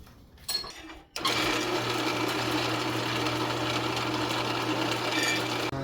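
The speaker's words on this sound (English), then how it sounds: "I'm just going to swap over to my countersink bed again and just clean up the, just give them a little touch on there to clean up the burrs" A countersink bit spinning in a drill to chamfer and deburr freshly drilled holes for a bed rail rod rack, a loud steady whirring drone that starts abruptly after a second of quieter shop noise and runs on unbroken.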